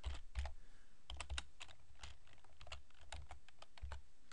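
Fingers tapping out short bursts of keystrokes on a computer keyboard, quiet and close, with irregular clicking rhythm and brief pauses, no voices.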